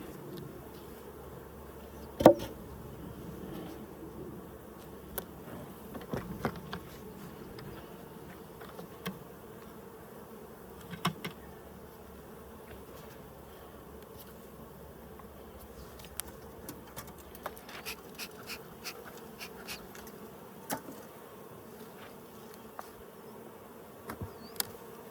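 Honey bees buzz steadily at the hive in a soft, continuous hum, with occasional closer insects whizzing past and faint clicks and taps around.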